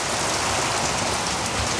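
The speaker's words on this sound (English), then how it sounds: "that is a lot of rain and hailstones" Heavy rain pounding down with hailstones on a rainy Monday, a dense, loud, unbroken hiss and patter close to the microphone with no voices.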